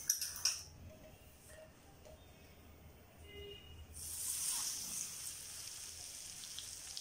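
Hot oil is poured into spiced mango pickle masala, a bright sizzling hiss swelling up partway through, with faint clinks of spoon and bowl from the mixing before it.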